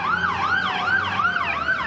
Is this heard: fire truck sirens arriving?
yes